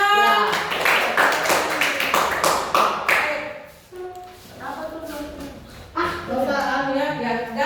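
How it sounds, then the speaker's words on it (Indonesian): Students in a school classroom applaud in a dense burst of clapping for a few seconds, and then a voice speaks as the clapping fades out. "Ya, tepuk tangan."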